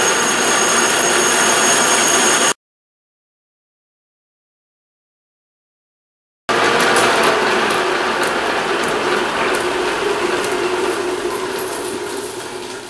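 Metal lathe taking a heavy 200-thousandths cut on a broken mass part held by a bolt, a loud steady grinding machining roar that cuts out for a few seconds of silence, then resumes and slowly fades.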